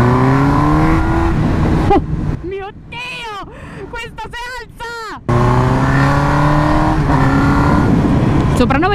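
Customized Suzuki GSX-R 1000 motorcycle engine revving while being ridden, a loud steady roar broken by a stretch of rising and falling throttle blips, then a return to sustained high revs, with voices talking over it.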